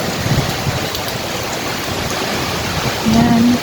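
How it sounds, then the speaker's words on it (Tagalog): Heavy storm rain pours steadily in Tagaytay, a dense, even hiss that stays loud throughout, with a faint tone entering near the end. "Maulan at mahangin. Nagpa-fog din po siya sa sobrang ulan."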